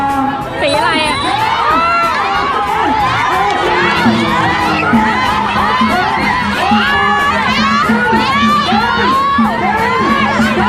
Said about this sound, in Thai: สีฟ้าชนะเชียร์กันใหญ่เลยนะคะ